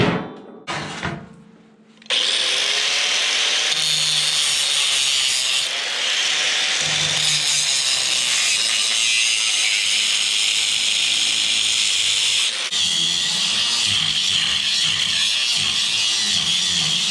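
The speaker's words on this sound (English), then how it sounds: "I ran out of cutting wheels. So I got some more today, so we're gonna get these cut" An abrasive cutting wheel grinds through steel for log splitter wedges, a loud sustained high whine and rasp that starts after a brief pause and runs steadily with small shifts in pitch, close up and alone.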